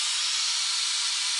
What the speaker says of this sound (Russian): Что-то болгарка режет.